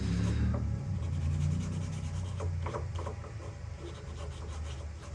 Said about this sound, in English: Sand it a little bit. That'll make it look more worn